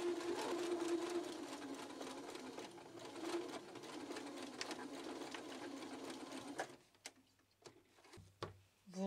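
Sewing machine stitching along a traced line on fabric edged with braid while making Christmas table decor: steady fast mechanical whirring that runs for about seven seconds, then stops, leaving a few faint clicks and handling noises.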